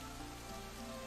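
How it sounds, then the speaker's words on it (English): Steady rain falls at night in a visual novel video game, a soft, even hiss with no break over a brief stretch. "does it have to rain every single night?"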